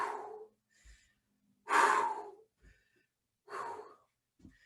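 A person breathes hard during an exercise workout, with three strong, close exhalations spaced a second or two apart and faint quieter breaths between them.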